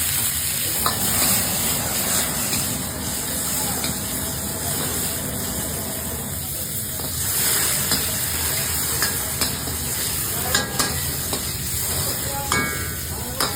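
Capsicum sautés in a little white oil in a Chinese wok, giving a steady, close sizzle with scraping stir clatter throughout and no talk.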